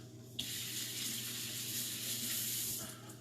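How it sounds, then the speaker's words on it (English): A kitchen tap runs steadily as a tea towel is wetted beneath it, making a continuous close hiss and splash for about two and a half seconds before the flow cuts off, with no voices. "grabbing a tea towel, a side towel. And all we're going to do is we're going to wet it"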